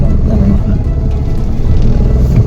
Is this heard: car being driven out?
yes